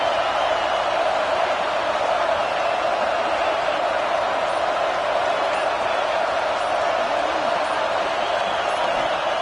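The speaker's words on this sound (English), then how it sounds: "It's early, but this crowd is fired up. Listen to this noise here." Stadium crowd noise in an NCAA college football video game: a dense, constant roar from a fired-up home crowd, steady and loud with no breaks across the whole stretch.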